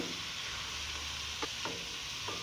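Mixed vegetables with cabbage stir-frying in a pan, a steady hiss of sizzling at low level with a few soft scrapes of stirring, no talking.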